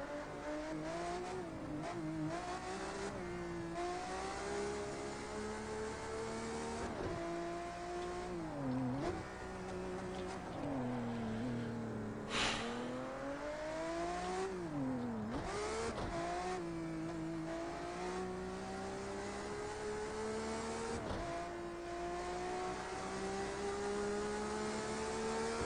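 Race car engine in the driving game Project Cars 2, played over cloud streaming, revving and shifting through gears with rising and falling pitch sweeps, loud and continuous with occasional sharp bursts for about twenty-five seconds.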